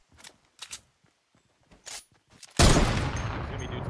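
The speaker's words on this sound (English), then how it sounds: "there's someone shooting at me" Fortnite gunfire breaks out suddenly as a loud, dense burst of rapid shots that keeps going to the end, after a few soft scattered clicks and thumps.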